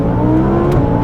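An Audi R8 facelift with a tuned 640 hp V10 and Milltek exhaust revving loud and close from inside the car, a dense, steady engine roar that swells slightly, with no talk.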